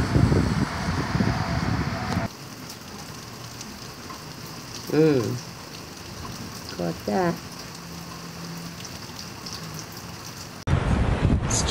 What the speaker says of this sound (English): It's thundering and lightning and raining really hard.